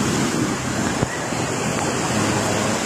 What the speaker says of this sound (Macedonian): Морето е со бранови, диво, причам има ветер